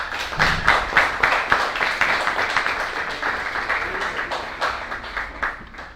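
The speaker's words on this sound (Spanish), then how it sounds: "Un aplauso para ellos." An audience at a debate event claps for the debate team, an energetic burst of applause with distinct hand claps, rising quickly and then gradually easing off.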